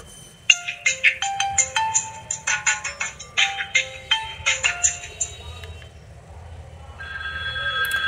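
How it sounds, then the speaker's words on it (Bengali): A folding feature phone plays its ringtone, a quick and bright electronic melody of clipped beeping notes heard close and clear, which fades into a softer sustained tone near the end. "চলুন দেখি যে ফোনটির মূল আকর্ষণ যে রিংটোন, এইটা কেমন সাউন্ড।"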